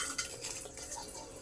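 Coarsely crushed spices, cinnamon, bay leaf and onion go into hot oil for veg pulao, giving a steady, close, bright sizzle that fills the moment without pause.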